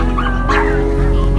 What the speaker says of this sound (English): As you can see, there are lots of dogs here.